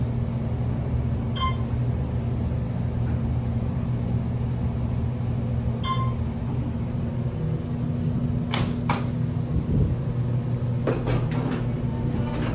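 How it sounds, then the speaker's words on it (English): Sharp relay clicks from an old Otis Series 2 traction elevator with its original door interlock. A few isolated clicks, then a quick cluster of them, sit over a steady loud hum from the machine room. "You definitely hear the relays."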